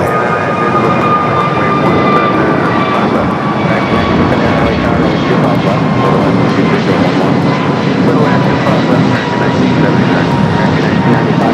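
A Boeing 747-400 jet airliner rumbles at Los Angeles airport, its engines a loud, steady roar that stays constant throughout.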